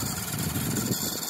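A D12 mini truck's engine runs steady and close on light throttle while hauling a load of gravel, giving a low, even drone with no voices.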